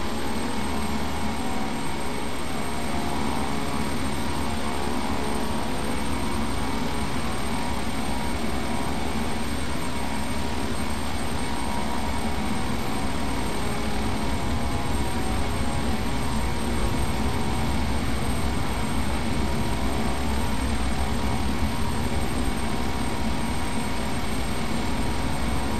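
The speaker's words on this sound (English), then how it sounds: "Engine's high idle." Twin turboprop engines of a Beechcraft King Air B350 hum at high idle in a flight simulator, a steady, loud, unchanging drone with a faint high whine and no speech.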